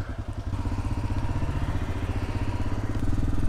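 A motorcycle rides along with a steady, rumbling engine drone and rhythmic mid-range pulsing throughout, loud and close, with no speech over it.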